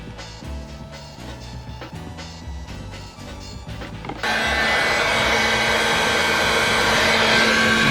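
A heat tool turns on partway through and blows hot air over a painted vinyl Hugo figure from Street Fighter 3 with a loud, steady rushing whir, preceded by handling and clicking sounds.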